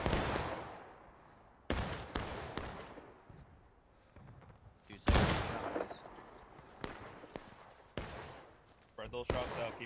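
Gunfire rings out in a video game battle: loud single shots and short bursts at irregular intervals, each with a long echoing tail, some nearer and some farther off. Voices can be heard faintly among the shots.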